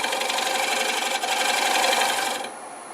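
A scraper of M2 high-speed steel shears across turning wood to refine cuts and remove tool marks, giving a steady, close, hissing rasp for over two seconds before dropping off to a quieter tail, no talk.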